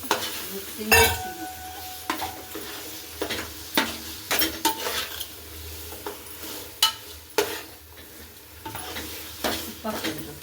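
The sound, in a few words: stirring chicken in a frying pan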